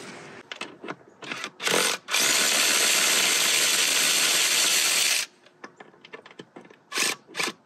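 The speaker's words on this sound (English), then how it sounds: "We're going to unbolt the throttle body. It's 4 10mm headed bolts" A ratchet loosens the four 10mm bolts on a Subaru throttle body: bursts of rapid clicking, then a long steady run of fast ratcheting up close, then more short clicking bursts.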